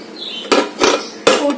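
A metal lid goes onto a cooking pot of snake gourd kootu, three sharp clanks and rattles in close succession, loud and near, with no talk.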